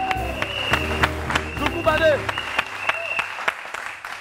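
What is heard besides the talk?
audience applause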